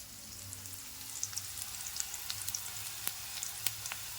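Pakodi frying in hot oil in a pan for a pakodi curry, a steady close sizzle with scattered crisp pops and crackles throughout, no voices.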